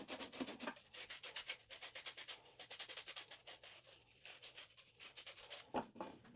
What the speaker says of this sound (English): I sand the hole by hand at 120 grit